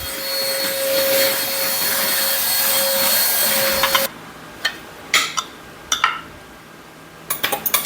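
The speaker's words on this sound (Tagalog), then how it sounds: "Ngayon, ako naman na yung magwa-vacuum na." A household vacuum cleaner drones loudly and steadily for about four seconds, then cuts off, leaving a few scattered clinks and knocks like dishes or objects being handled nearby.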